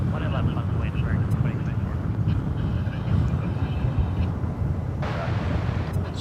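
A jet airliner at DFW Airport makes a steady broad roar that holds across the whole span, with wind buffeting the microphone on top.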